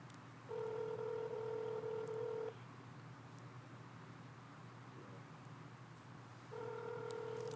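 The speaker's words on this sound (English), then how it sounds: "It's a lot of ringing." A phone ring tone sounds in two steady electronic bursts, one long and one starting near the end, separated by a quiet stretch of faint hiss.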